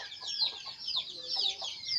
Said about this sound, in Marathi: ही पिल्लं आहे आणि कोंबडी आहे